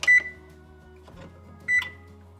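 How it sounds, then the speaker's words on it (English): A kitchen oven's control panel gives two short electronic beeps about 1.7 seconds apart as it is set to preheat to 400 degrees, close and clear over a quiet background hum. "I'm gonna preheat my oven to 400."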